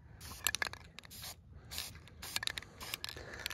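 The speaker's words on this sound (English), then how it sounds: "I'm going around and I'm spray painting these dog proofs white." A spray paint can hisses white paint onto dog-proofing pieces in a series of short, sharp bursts with brief pauses between, close and fairly quiet.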